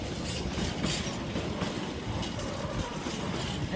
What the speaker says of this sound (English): It's supposed to be a container train,